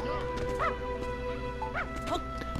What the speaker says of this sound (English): Oh, we hear a dog.